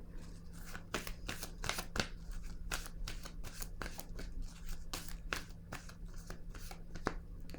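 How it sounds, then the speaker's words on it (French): Tarot-style cards handled during a reading: a steady series of crisp slaps and shuffling flicks, close and moderately loud over a low hum, with no talking. "Je vais déposer une carte sur elle."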